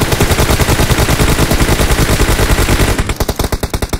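In the PUBG Mobile video game, rapid automatic gunfire rattles along in an even, fast stream of loud shots for several seconds and thins out toward the end. No one talks.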